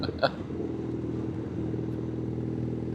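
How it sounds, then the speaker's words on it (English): Kawasaki W650 motorcycle engine burbling steadily at low revs, a continuous rumbling idle with a brief clatter near the start, captured close up. "it's just got a great burble"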